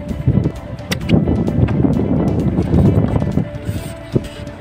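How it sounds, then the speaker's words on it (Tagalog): Strong coastal wind at sea during net fishing off Lubang buffets the microphone with a steady, rough roar and occasional gust bursts, loud and close. "ang lakas ng hangin oh"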